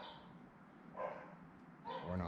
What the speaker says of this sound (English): Or bark again. We're done barking.